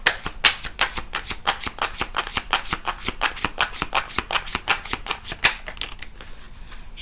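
A deck of oracle cards is shuffled in a brisk, even rhythm of crisp slapping riffles, close and clear, lasting several seconds without talk.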